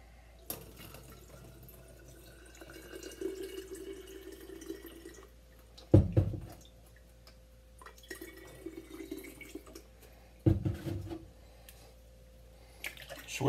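Filtered water runs from a tap over mung bean sprouts being rinsed, a soft trickle with splashing and a couple of louder bursts of water, fairly quiet and close.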